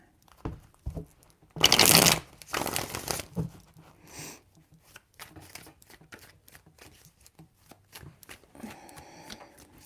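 Tarot cards are shuffled in a few quick riffling bursts, the loudest near the start, followed by softer handling, tapping and card slides, with no talk.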